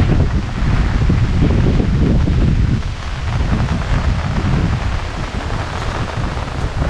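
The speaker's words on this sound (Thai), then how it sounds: "ลมแรงเลยนะครับทุกคน" Strong gusts of wind before rain at a campsite in Khao Yai National Park buffet the microphone in a loud, continuous roar that surges and eases slightly, with rustling underneath and no talking.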